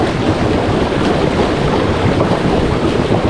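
Churning water in a very turbulent hot tub, splashing against its sides, makes a loud, steady, close roar of rushing and bubbling with no pauses.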